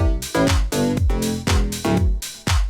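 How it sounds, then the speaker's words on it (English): Deep house bass lines pump hard under extreme sidechain compression, the level ducking and swelling in a fast steady rhythm about five times, loud and dense, with no voices. "It's on extreme settings at the moment, so you can hear the pumping effect."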